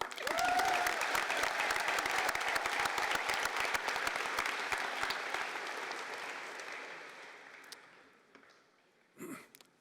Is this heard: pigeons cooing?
no